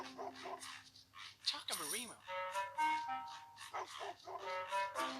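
A cartoon dog in the stealth game Robbery Bob 2 barks and yips in short bursts amid game sound effects and jingles, while a person talks over it.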